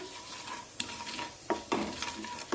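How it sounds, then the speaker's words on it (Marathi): Red chili powder and other spice powders frying in oil over a low flame. A soft sizzle runs throughout, broken by several sharp scraping stirs of a spoon against the pan. "आता हे मसाले व्यवस्थित तेलामध्ये परतून घेऊया।"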